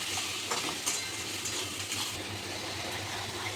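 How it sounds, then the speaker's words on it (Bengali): Garlic and ginger paste frying in a pan for chana masala makes a constant soft sizzle, with faint stirring scrapes over the even hiss. "একটু রসুন বাটা দিলাম, একটু আদা বাটা দিলাম, দিয়ে কিছুক্ষণ নাড়িয়ে নেব"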